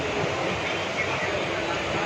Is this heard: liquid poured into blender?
no